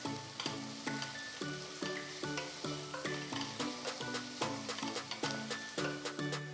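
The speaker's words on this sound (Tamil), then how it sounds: "நெக்ஸ்ட் 1 டீஸ்பூன் இஞ்சி பூண்டு விழுது சேர்த்து வதக்குங்க" Ginger garlic paste sautéing with onions and green chillies in a pan, a steady close sizzle with regular stirring scrapes repeating throughout, no talking.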